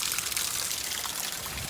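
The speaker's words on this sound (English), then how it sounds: "It's heavy raining down in Georgia, and it's got some heavy rain, and it's gonna keep pouring" Heavy rain pours down steadily during bad weather in Georgia, a continuous, fairly quiet wash of falling water with no voices.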